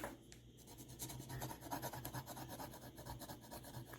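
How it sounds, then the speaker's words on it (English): Graphite pencil scraping over rusty patches on a WW2 knife blade, a steady close rasping scratch in quick rhythmic strokes throughout. "this pencil, I can go over these rusty areas with just this graphite pencil"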